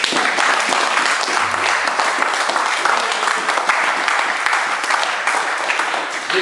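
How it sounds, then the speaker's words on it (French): A church congregation claps and cheers for the Lord in steady, dense applause, a crowd sound that holds evenly throughout with no lull. "Vous pouvez acclamer le Seigneur"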